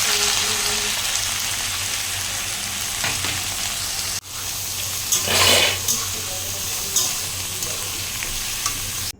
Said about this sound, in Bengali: এখানে আমি শসা, পেঁয়াজ, গাজর আর কিছু লঙ্কা কেটে নিয়েছি কুচি কুচি করে। এবার এগুলোকে আমি ভেজে নেব।